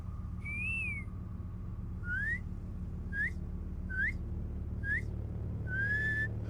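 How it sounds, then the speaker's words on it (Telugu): A person whistles a series of short rising notes, six separate chirps spaced about a second apart, clear and close over a low steady background hum, with no talk. "రేడియోలో విజిల్ కొడతావు కదా"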